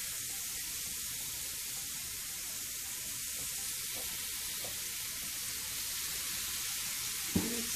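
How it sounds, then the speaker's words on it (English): Soy sauce hitting a hot pan of shrimp, scallops and lobster for a home hibachi dinner, giving a steady broad hissing sizzle that holds evenly, with a single sharp knock near the end. "little soya sauce."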